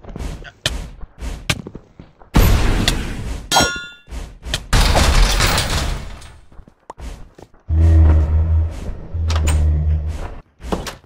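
Springtrap from a Five Nights at Freddy's-style Minecraft horror map makes repeated metallic clangs and thunks in the game, loud, close hits in an irregular sequence with longer rumbling crashes between them.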